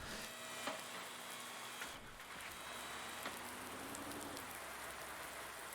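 Steady rain patters on a garage roof in the video game Farming Simulator 19, a dense hiss with occasional sharper drips and knocks, continuous and fairly close.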